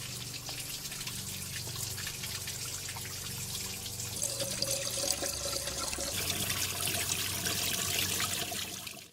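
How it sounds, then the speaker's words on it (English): Steady running water pours and splashes continuously out of a radiator hose on a 2.7 Hyundai Tiburon, growing slightly louder and brighter partway through, with no voices. "when I put the hose in this side, water poured out the other side."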